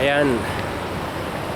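Floodwater rushing in during heavy rain pours in steadily with a broad, hissing roar; a voice speaks briefly at the start over the flow.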